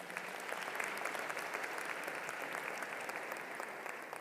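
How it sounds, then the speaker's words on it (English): Steady, dense applause from a large audience at a university commencement ceremony, sustained at an even level throughout with no pauses. "Let's give her a round of applause, please."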